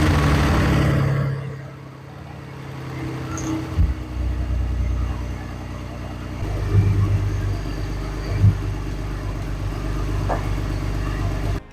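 A Mercedes GLK 350 engine is started for the first time after a rebuild and settles into a steady idle, loud and close, with occasional small revs and clunks.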